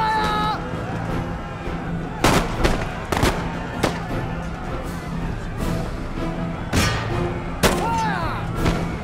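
Musket volleys crackle and boom across a Total War: Empire battlefield, with several sharp, loud bursts spread through the clip over a steady low rumble of battle, while shouted game voices call out orders.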